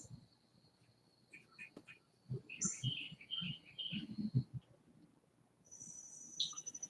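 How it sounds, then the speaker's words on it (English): Morning birdsong and nature sounds come from a recording played back in a meeting room. Faint scattered chirps and tweets sit over a steady high insect-like tone, with soft low thumps in between. "You can hear the birds, you can hear nature."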